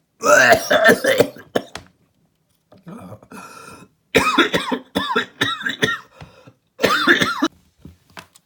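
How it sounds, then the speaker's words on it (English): Several harsh, rasping coughs come in bursts with short gaps, close and loud, one after another in an extended fit. "Had a bit of a coughing fit."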